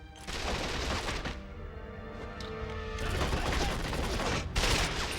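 Rapid automatic gunfire in the PS2 version of 007 Quantum of Solace at an eco hotel, loud continuous bursts with a brief lull midway before the shooting resumes heavier.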